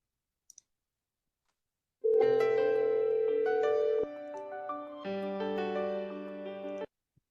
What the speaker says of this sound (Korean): 이 상태에서 콜링 익스텐션으로 한번 전화해 보도록 하겠습니다